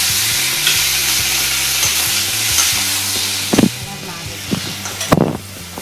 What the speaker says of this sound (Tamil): நம்ம புளி வச்சுக்கலாம் தக்காளி பழமும் இது கூடயே போட்டுக்கணும் ரொம்ப சேர்ந்து வதங்க சரியாக இருக்கு